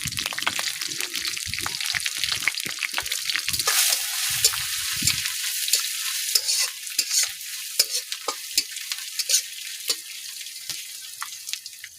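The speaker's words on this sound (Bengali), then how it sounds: "কাঁচা লঙ্কা দেওয়ার পর 5 ফোড়ন আমরা দিয়ে দিলাম" Whole five-spice seeds (panch phoron) and green chillies fry in hot oil outdoors, a steady close sizzle with crackles and stirring scrapes throughout, no speech.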